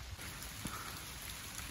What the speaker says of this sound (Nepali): पानी पानी जोडले पर्यो